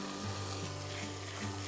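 Ground spices, including Kashmiri chili powder, turmeric, cumin and coriander, fry lightly in a pan for a potol stuffing, making a steady close sizzle under a low hum.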